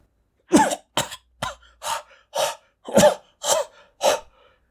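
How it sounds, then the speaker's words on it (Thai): A series of harsh, wet coughing and spluttering bursts, about eight in a row at close range, like someone choking on water and gasping for air with labored breathing. "เสียงลมหายใจติดขัดเป็นช่วงๆปนกับเสียงสำลักน้ำอย่างรุนแรง"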